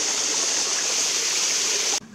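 Cold, clean mountain water in Wolchulsan National Park, South Korea, flows in a steady, close, loud rush and hiss that cuts off abruptly near the end.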